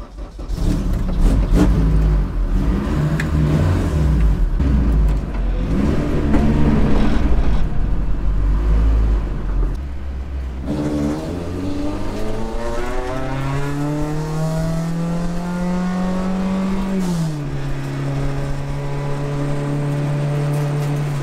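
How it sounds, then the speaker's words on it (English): A K24-swapped Acura RSX-S lapping the track at Thunder Hill East, about 245 whp, its engine roaring loud and close as it climbs through the revs, drops on a shift and climbs again. "for now we're at the track, and I'm gonna take her out in the RSX."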